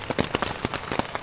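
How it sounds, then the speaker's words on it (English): Raindrops fall on a backpacking camp in the Smokies near Kuwohi, Tennessee. Several soft, irregular taps land close by in a short, quiet burst. "We're quite literally drinking drops of rain."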